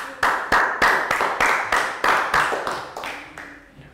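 A primary-school class gives a round of applause, about a dozen rhythmic, evenly spaced group claps, crisp and close, fading slightly at the end.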